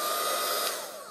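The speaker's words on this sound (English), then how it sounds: "I'm holding the heat gun quite high" Heat gun blowing hot air while held high above a plastic journal cover, a steady close rushing whoosh that eases off slightly toward the end, with no talk.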